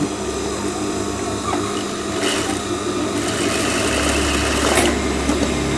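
A sewing machine stitches a Shanghai-style collar, a steady close mechanical whir running continuously with slight shifts in speed.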